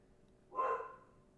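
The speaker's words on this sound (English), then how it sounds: "dog is barking" A single dog bark rings out once, fairly faint and somewhat distant, over a quiet background hum in a home setting.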